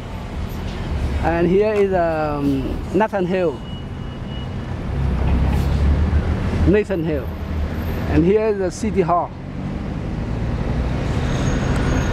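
Downtown Hartford street traffic with a passing bus on an early-afternoon city street: a steady roadway rumble underneath, with someone talking over it in short bursts.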